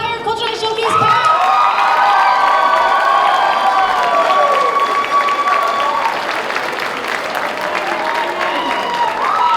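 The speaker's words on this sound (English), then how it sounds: "Can we get another round of applause of our entire Cultural Showcase cast?" Audience applause and cheering for a cultural showcase cast at a cultural night event, loud and sustained with shouts and whoops from a large crowd throughout.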